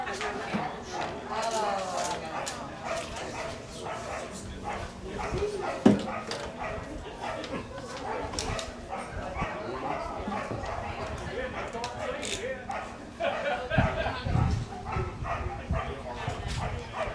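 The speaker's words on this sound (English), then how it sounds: "The dog back there is part of the show." A dog barks during an indoor house concert, a few short yaps breaking through a steady bed of people talking and room noise, with one sharper bark standing out near the middle.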